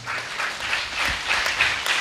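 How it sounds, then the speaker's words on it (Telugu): A church congregation at the final day of a seven-day fasting festival claps loudly and steadily in a big wash of applause, with a low thump in the middle and faint voices underneath. "చప్పట్లు కొట్టండి గట్టిగా"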